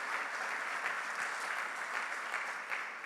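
A church congregation applauds, a dense, steady wash of clapping heard from within the room that continues evenly without a break.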